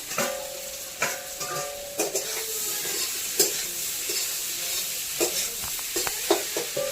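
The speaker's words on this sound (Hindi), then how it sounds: "अब इसमें आलू डाल दे रहे हैं।" Potatoes fry with softened onions and tomatoes in a pan over a village cooking fire. A steady sizzle runs under repeated scraping stirs and clanks, loud and close.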